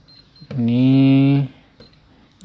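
A multimeter's continuity buzzer, probed on the middle leg of a component on the board of a dead Chinese TV, sounds one steady, fairly loud electronic beep lasting about a second between quiet pauses.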